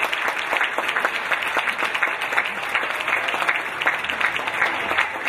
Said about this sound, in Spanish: ¿Les gustó? Pues con aplauso